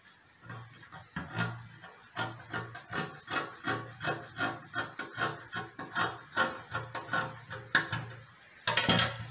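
Ankara fabric is cut for a fringe skirt, with a steady series of close, rhythmic crisp snips and rasping scissor strokes that continue through the clip, ending in a louder rustle.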